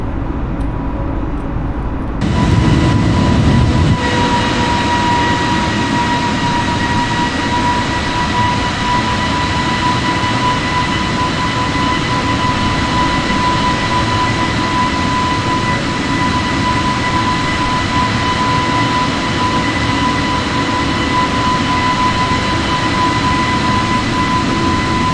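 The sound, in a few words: airliner climbing after takeoff in a flight simulator video game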